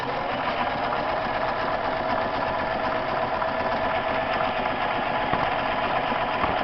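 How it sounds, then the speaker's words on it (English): A Singer sewing machine sews down one side of a buttonhole, a steady, fast, close mechanical whir and rattle that continues evenly without pause. "What we're going to do is sew down the one side."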